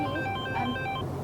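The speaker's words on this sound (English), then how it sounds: "sorry about the phone call from my brother" A mobile phone ringtone for an incoming call plays a short melodic run of electronic tones, steady and clear over low room hum.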